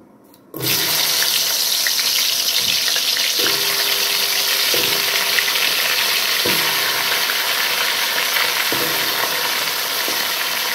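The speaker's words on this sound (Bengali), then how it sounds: "এবার আমি এই তেলের মধ্যে গাটি কচুগুলোকে দিয়ে দেব।" Pieces of taro dropped into hot oil set off a loud, steady, hissing sizzle that starts abruptly and stays dense, with occasional faint clinks of a utensil.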